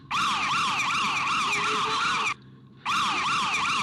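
A wailing panic alarm siren sounds loud and steady in a home, its rising and falling tones cycling continuously, cutting out briefly near the end before resuming.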